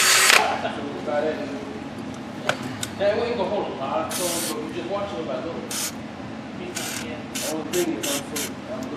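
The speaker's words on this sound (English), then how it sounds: "Spray it down a little fluid film and you're golden." Several short hissing bursts from an aerosol can of Fluid Film rust inhibitor sprayed on rear brakes of a 2019 Ford Edge, irregular and close by, with someone talking between and over them.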